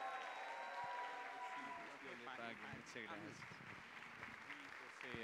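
Applause from a crowd at a Catholic charismatic assembly runs continuously beneath cheering and shouting voices, dense and steady throughout.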